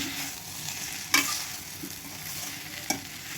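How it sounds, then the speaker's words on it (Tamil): Brinjal fry with chilli powder being stirred in a pan: a steady soft sizzle under repeated scraping strokes of a spoon, with a couple of sharper clinks against the pan. "ஒரு 2 நிமிஷத்துக்கு இதே மாதிரி கலந்து விட்டுக்கோங்க"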